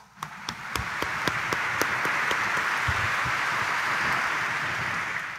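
A church congregation at a Sunday Mass bursts into loud, sustained applause, a dense wash of many hands clapping steadily from start to finish with a few sharper individual claps standing out near the front.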